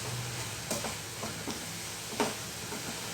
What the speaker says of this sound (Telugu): ఈ పచ్చివాసన పోయే వరకు వేయించుకోవడం ద్వారా పచ్చివాసన పోవడమే కాదు, తొందరగా మెత్తబడుతుంది